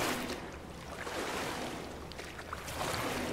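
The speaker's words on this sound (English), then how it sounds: "It's nice, loud water. Nice and gloopy. Splishy splash." Water sloshes and splashes steadily as someone wades through a flooded pool area in the video game Pools, a constant broad watery wash with soft splashy swells, close and fairly loud.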